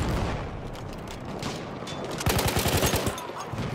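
Hellriegel Defensive submachine gun firing in a Battlefield 1 match, a rapid close burst of shots erupting midway over a dense background of distant battle rumble and explosions.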